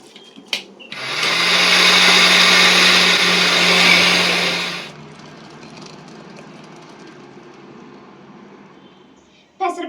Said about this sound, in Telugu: వాటిని అయితే 2-3 టైమ్స్ నీట్గా అయితే వాష్ చేసేసుకుని ఇప్పుడైతే దాన్ని మిక్సీ అయితే పడుతున్నాను.